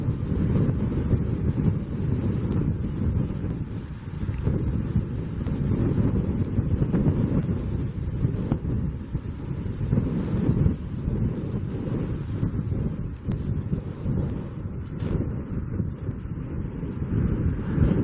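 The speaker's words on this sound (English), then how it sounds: "It's so windy up here." Strong wind gusts buffet the microphone on a high rooftop beside a stadium construction site, a loud continuous roaring rumble with surging gusts throughout and no other clear sounds.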